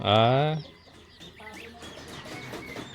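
A Black Australorp rooster and farm chickens sound off, opening with one loud, drawn-out crowing call close by, then softer scattered clucks and murmured voices underneath.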